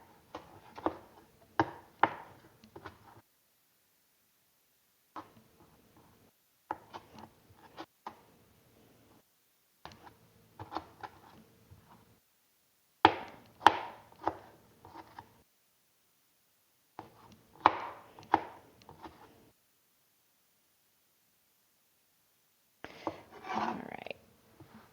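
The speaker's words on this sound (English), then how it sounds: "You can see my knife just does not want to work with me with my tomato." A knife struggling through a tomato on a cutting board, producing quiet groups of soft cuts and taps separated by pauses, near and faint with no talk.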